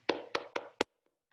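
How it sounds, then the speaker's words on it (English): Four distinct hand claps ring out close and clear in a quick, uneven rhythm, followed by two faint taps and then quiet. "let's just all clap for the team"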